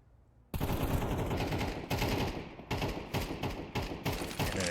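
Exchange of gunfire in a competitive video game match: rapid automatic bursts cut in sharply after a quiet start and continue in loud, choppy volleys with short gaps.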